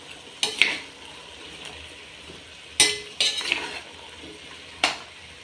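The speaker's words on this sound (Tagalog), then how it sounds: "Tsaka ihalo." Meat and squash stirred in a cooking pan: a soft sizzle runs underneath while the spoon scrapes and clinks against the metal in a few sharp, separated bursts, close by and with no talking.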